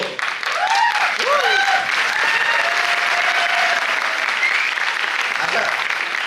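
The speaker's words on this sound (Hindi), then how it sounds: "जो पी के आए हैं वो लोग ताली बजा रहे हैं।" Steady applause from a crowd fills the whole stretch, with whoops and voices rising over the clapping throughout.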